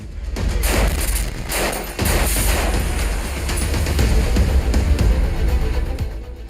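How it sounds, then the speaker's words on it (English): Mortar and artillery shells exploding around a building held by International Legion fighters: dense, continuous booming and thudding with crashing impacts, a sharp hard hit near the two-second mark, loud and unbroken throughout. "Russians constantly shelled the positions of the Legionnaires in the building with mortars and artillery."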